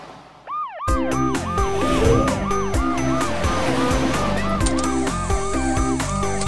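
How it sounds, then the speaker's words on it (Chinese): Cartoon police car and ambulance sirens wail in repeating rising and falling sweeps, loud and close, layered over a bouncy children's song backing with steady beats throughout. "超雷达警车雷克， 飞天救护车安琪， 装甲消防车高迪， 超级汽车出动"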